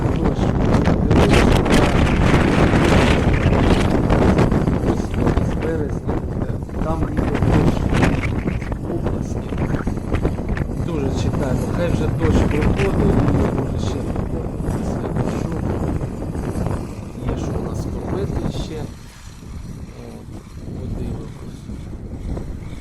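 Strong wind buffets the microphone in heavy continuous gusts over a winter wheat field in March, roaring and rumbling throughout, with a person talking underneath.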